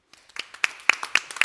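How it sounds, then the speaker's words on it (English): A few people in a conference audience clapping, a short, sparse burst of irregular claps close by, without any voices. "Welcome with a round of applause, please."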